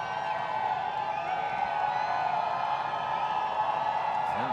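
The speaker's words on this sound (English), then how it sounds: "Centennial crowd getting into it here on 1st down and 10" Crowd noise from the stands at a 2019 Class 6A high school football playoff game between Edina and Centennial, a steady, fairly distant roar of cheering that holds evenly throughout without distinct claps or words.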